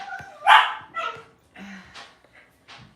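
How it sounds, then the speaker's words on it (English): A puppy barking in the background of a live home broadcast, several sharp yips and barks in an irregular run with short gaps, fairly close and clear. "That's our puppy in the background."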